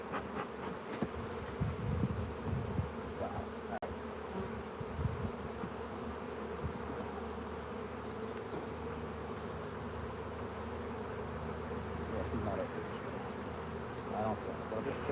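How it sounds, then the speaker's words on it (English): Honeybees in an open hive box during a live inspection drone in a dense, continuous buzz close by, a loud swarm hum with individual bees flying past, and a little faint talking underneath. "There's so many bees in this box."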